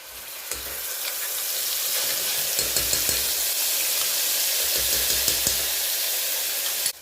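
Garlic tempering for chana dal sizzles hard in a hot pan as spice masala is added, a loud continuous fry and hiss with small pops and crackles scattered throughout.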